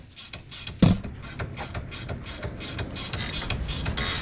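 A manual ratchet tightens a nut on the axle of a collision-damaged 2018 Jeep Wrangler, giving a quick, regular run of sharp clicks close by, with one heavier knock early on and no talking.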